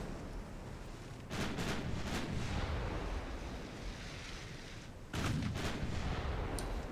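Two heavy booms from a dreadnought-era warship's 6-inch naval guns in a warship combat game, each a deep, rumbling blast with a long roar over steady ocean-like background noise.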